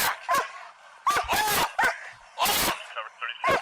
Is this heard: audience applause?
no